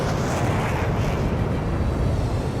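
Continuous rumbling barrage of artillery fire and explosions in the Ace Combat 7 combat flight game, a dense, loud, low roar with no clear gaps between blasts.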